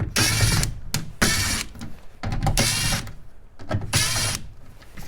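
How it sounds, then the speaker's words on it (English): A powered driver backs out the 7/32 screws holding a 6x8-inch factory speaker in a Ford F250 front door, giving four short, close whirring bursts with brief gaps between them. "It's held in with 4 7/32 screws. Let's go ahead and remove those."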